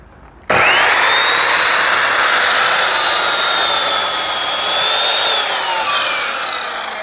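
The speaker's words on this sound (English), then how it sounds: "I'm just going to cut off the excess so they're both exactly the right height." Saw cutting the excess off a wooden leg of heavy-duty greenhouse staging, a loud steady continuous cut starting abruptly after a brief quiet moment and running on close-up until it eases slightly near the end, with no talk.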